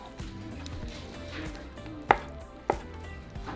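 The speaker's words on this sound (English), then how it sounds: "so now we're just going to cut into small little cubes." Cooked, peeled beef tongue being cut into small cubes with a knife on a cutting board, giving a series of soft close chops with a couple of sharper knocks.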